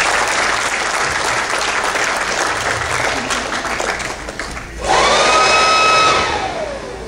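A crowd at an Urdu mushaira poetry gathering in Richardson, Texas gives loud, dense applause to welcome its president. The clapping dips briefly, then surges back with a thin high whistling tone, like microphone feedback, ringing over it.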